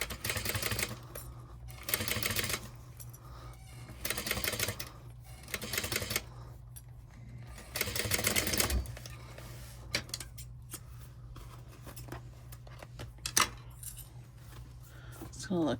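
A sewing machine basting fabric at an eighth-inch seam with a back stitch, running in several short bursts of rapid mechanical chatter separated by pauses, with faint handling noise and occasional voice underneath.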